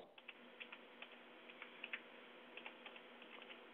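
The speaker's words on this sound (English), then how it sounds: "What are you typing?" Fingers tap on a computer keyboard in quick irregular bursts of soft clicks, faint and close, with a quiet room hum beneath.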